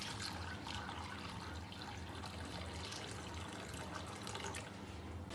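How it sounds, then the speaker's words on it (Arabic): Hot water poured over sliced beetroot in a bowl, a steady close splashing trickle that runs evenly throughout with no talk. "واكب عليه ميه سخنه."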